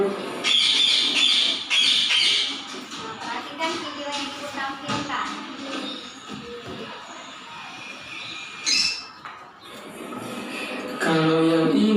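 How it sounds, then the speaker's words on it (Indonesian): A pigeon coos and calls steadily at close range, with rustling and flapping alongside and the sound cutting out briefly near the end. "Kalau yang ini namanya burung dara."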